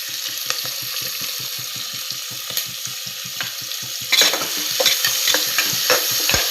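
Tomatoes and onions are sautéed in a pan for tomato chutney, a rapid, regular scraping stir over a soft sizzle, turning louder and busier near the end.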